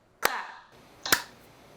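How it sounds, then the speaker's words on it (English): Two sharp, close hand claps by people clapping together ring out in a quiet room, nearly a second apart. "We're gonna want to clap at the same time"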